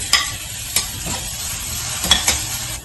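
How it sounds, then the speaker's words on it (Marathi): Green chili, ginger and garlic sizzle in hot ghee with whole spices such as cinnamon and cardamom, a steady close frying hiss broken by a few sharp stirring clacks. "त्याच्यामध्ये हिरवी मिरची, आलं, लसूण हे टाकत आहे"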